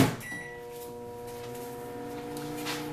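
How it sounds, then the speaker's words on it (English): A microwave oven runs with a steady low mechanical hum and faint tonal lines droning evenly, after a short knock at the start. "let me go ahead and zap it in the microwave a couple seconds"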